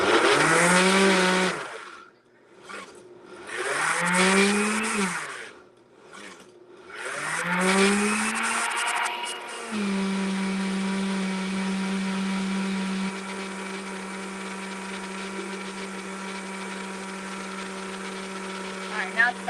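A blender motor whines and surges while blending frozen grapes, cutting in and out in bursts before settling into a steady high drone, close by, with a voice talking over it.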